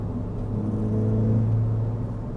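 Stock Ford Fiesta ST hot hatch driven hard on a public street, its engine a steady low drone that swells slightly mid-pass, close and continuous with no talking.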